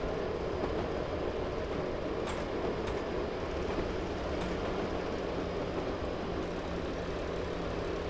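Class 101 diesel multiple unit running in the Train Sim 2018 video game on the Weardale and Teesdale route, a steady loud engine and wheel rumble that continues throughout with faint clicks of the track.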